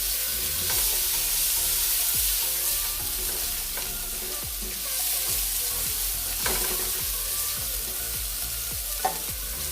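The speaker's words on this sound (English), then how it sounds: "The onions first, saute it a little bit." Onions sautéing in a pot for one-pot chicken and rice, a continuous close sizzle broken by repeated stirring scrapes, alone with no talking.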